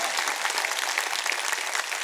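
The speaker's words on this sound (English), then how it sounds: "Give them a very good applause for doing a great job." A room full of people at a school kids' convocation ceremony claps steadily throughout, a bright, even patter of many hands at moderate distance.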